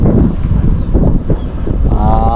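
Steady wind buffeting a microphone on a fishing trip, a continuous low rumbling roar with a faint tonal whine near the end.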